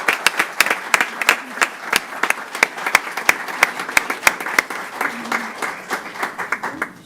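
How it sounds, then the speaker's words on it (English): Audience applause at a school board meeting, a moderate crowd clapping in a thin, uneven patter with sharp individual claps standing out, holding for about seven seconds before tapering off. "if we can give her a round of applause"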